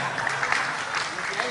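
Audience applause for Kiai Haji Agus Ali Mazhuri at a religious gathering: a steady, dense patter of clapping hands across the whole stretch, fairly even in loudness, with no single voice standing out.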